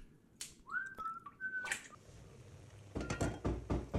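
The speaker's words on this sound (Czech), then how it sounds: "A tak si aspoň pískám." A person whistles a short tune while trimming the ends of green beans in a kitchen, a few clear rising and held notes close by, followed by light clicks and knocks of the work with no talking.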